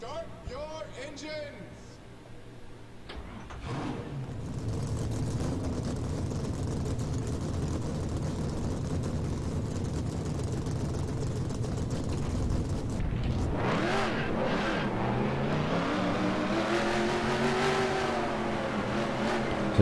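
Race car engines in the NR2003 racing game fire up and rev in a roaring, layered drone, swelling louder with rising and falling pitch sweeps in the second half, under a voice speaking at the start.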